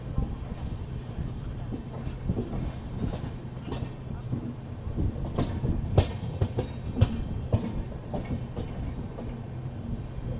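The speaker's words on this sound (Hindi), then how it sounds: "वरना बहुत ही अच्छा शार्प कर्व लेते हुए ट्रेन जा रही है अपनी" The Delhi–Jodhpur SF Express rolls through a sharp curve in fog, heard from inside. A continuous rumble runs under rhythmic clickety-clack wheel beats and occasional sharper knocks, loud and close throughout.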